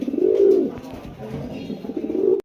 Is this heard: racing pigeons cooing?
yes